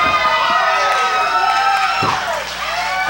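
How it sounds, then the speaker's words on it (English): A wrestling crowd at a CWF Mid-Atlantic Weaver Cup Finals match cheers and roars continuously, loud and close, with whoops and shouts swelling near the end. "And listen to the crowd come up for Chet Sterling."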